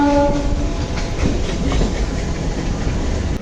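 Chennai Beach–Velachery MRTS suburban train running along an elevated rail bridge, a steady loud rumble with wheel clatter throughout, and a brief horn-like tone at the start.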